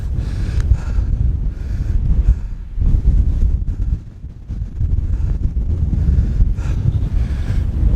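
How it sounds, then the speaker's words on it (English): Strong wind buffets the microphone on a grey, exposed hilltop, a loud continuous roar with gusty swells throughout and a brief lull midway. "As I say, it's already windy."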